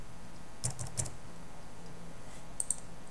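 A few sharp computer keyboard keystrokes, spaced apart, faint and close, entering a figure into an Excel spreadsheet with no talking.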